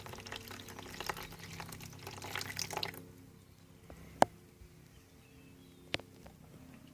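Water pours steadily into a plant propagator in an organic kitchen garden for about three seconds, then stops. A couple of faint, separate drips follow in the quiet.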